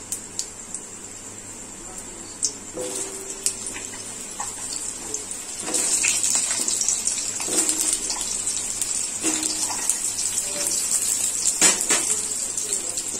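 Potatoes go into a pan of hot oil already seasoned with five-spice seeds, setting off a louder, steady sizzle after scattered clinks and pops, with a brief voice heard nearby.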